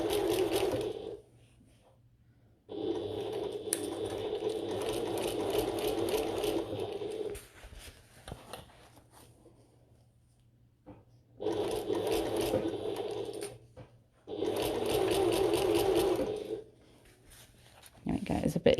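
A sewing machine stitches a bucket tote bag in several separate runs of fast, steady whirring, close and clear, with pauses between runs and someone talking at times.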